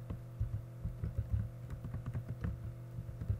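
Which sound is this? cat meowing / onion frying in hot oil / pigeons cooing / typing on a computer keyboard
typing on a computer keyboard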